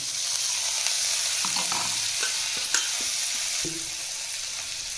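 Cluster beans sizzle in hot oil in a pan, a steady loud hiss with scattered scraping knocks from a spoon stirring them, close up and with no voices.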